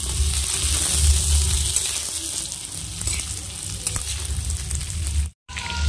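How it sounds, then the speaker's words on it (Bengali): Papaya and potato pieces frying with onions in hot oil, a loud, close, continuous sizzle and crackle with light stirring, cutting out briefly just before the end. "পেঁপে আর আলুগুলো আমি আগেই একটু হালকা করে ভেজে নেব।"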